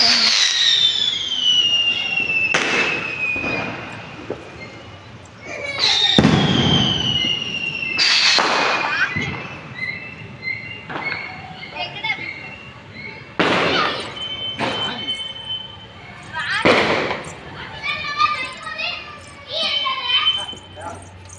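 Firecrackers burst at a Karthigai Deepam festival in loud, sharp cracks at irregular intervals, several close by, with children's voices and chatter running between the blasts.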